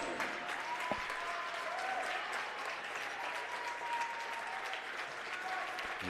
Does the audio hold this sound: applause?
yes